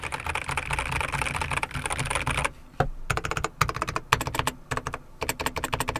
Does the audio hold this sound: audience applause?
no